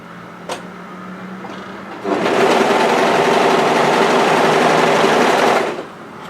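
An overlocker edge-finishing the two shoulder edges of a blouse yoke runs in one steady, loud burst of about three and a half seconds, preceded by a faint click and low hum.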